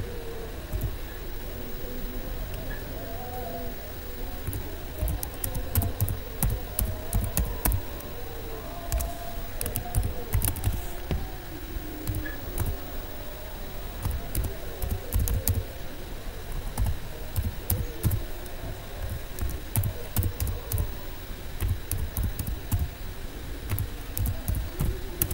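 Command being typed on a computer keyboard, a steady run of soft close keystroke clicks over a constant low background hum, with no talking.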